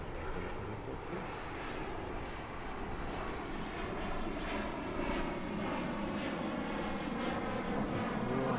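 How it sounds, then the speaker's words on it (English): A training aircraft climbs steeply and slowly on a missed approach at East Midlands Airport, its engine drone loud and steady throughout, swelling slightly as it nears overhead. "And a training aircraft making a missed approach. Steep, slow climb"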